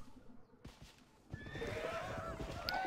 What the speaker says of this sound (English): With all these horse armies running around,